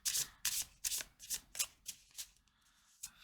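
Oracle cards are shuffled by hand in a run of crisp riffling bursts, about eight in quick succession, fading somewhat toward the end, close and alone.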